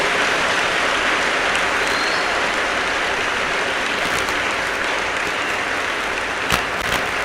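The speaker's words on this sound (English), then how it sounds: "Let us continue clapping until I say yes." A standing audience at an education and leadership congress claps continuously, a dense, even roar of applause filling the room without letup, with a few sharper claps near the end.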